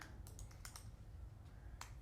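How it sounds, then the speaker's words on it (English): Quiet, close taps on a computer keyboard, several quick keystrokes in a short burst followed by a couple of isolated presses. "So I'm just going to type in the Griffiths"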